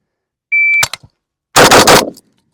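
A Norinco 84-S 5.56 AK rifle fires one loud, sharp shot followed by a quick decaying crack, preceded by a short electronic beep, then silence.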